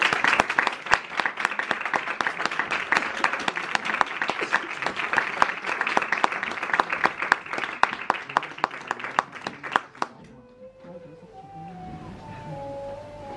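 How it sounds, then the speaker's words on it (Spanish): An audience at a poetry book presentation gives a warm, dense round of applause that holds strong for about ten seconds, then breaks off into a quiet room. "que recibáis con un fuerte aplauso a Gema Sánchez Rivera y, por supuesto, que a Cristina Iglesias Llorente"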